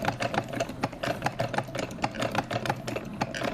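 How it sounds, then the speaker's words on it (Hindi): A sewing machine stitches a homemade cloth face mask, running in a fast, steady, rattling rhythm close by throughout, with no voices. "करते रहो सिलाई"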